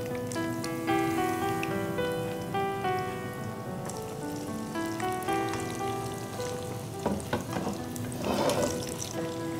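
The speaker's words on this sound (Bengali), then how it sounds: "আরেকটা কড়াইতে যে তেল গরম হচ্ছে সেই তেলে ছেড়ে দিতে" Pieces of food fry in hot oil in a wok, giving a continuous crackling sizzle that swells toward the end, with tonal background music playing beneath it and no one speaking.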